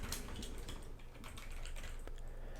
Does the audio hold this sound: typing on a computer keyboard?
yes